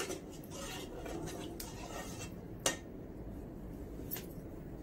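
A spoon stirs a shellfish (clam) curry in a pot after ingredients are added, with soft, quiet scraping and a couple of sharp utensil clinks against the pot.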